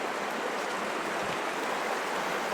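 A mountain river rushes steadily over rocks, almost like a waterfall, a loud continuous broadband wash of flowing water with no pauses.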